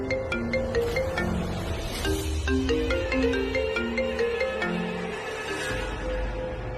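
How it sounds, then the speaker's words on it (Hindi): A mobile phone ringtone plays in a Hindi TV drama scene: a clear, loud melodic tune of repeating electronic notes that runs continuously without talk. "अभी ये वो रिंगटोन नहीं है।"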